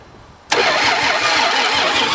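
A badly damaged Ram van engine cranks and fires after the key is turned, bursting loudly into a rough, steady running roar close by.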